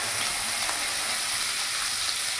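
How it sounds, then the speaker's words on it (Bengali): Chopped onion fries in mustard oil with mustard seeds and dried red chilli, making an even, close sizzling hiss that ends with a light clank. "সর্ষেটা যখন ভালো করে ভাজা হয়ে যাবে তখন একটা পেঁয়াজ আমি কুচনো দিয়ে দিলাম"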